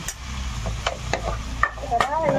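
Ground spices, including black pepper and dried chili powder, are stirred in a cooking pan, with scraping strokes over a light sizzle, close and fairly loud.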